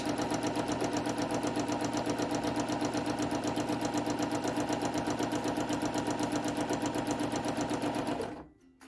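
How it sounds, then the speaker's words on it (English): A sewing machine runs a straight stitch across a free-motion quilting practice pad, a fast, even mechanical whir and needle chatter that holds steady for about eight seconds, then stops abruptly. "I'm just going to finish this out with a straight stitch all the way to the edge"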